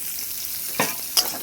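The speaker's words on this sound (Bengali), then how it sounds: "ভালো করে নেড়ে নেব, লাল লাল করে ভেজে নেব" Chopped onions with cloves, cinnamon and cardamom fry in a pan under a steady low sizzle, with two short scraping stirs of a spoon standing out near the end.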